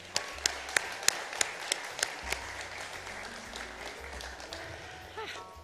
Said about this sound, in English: So let's just have a massive round of applause for all of you.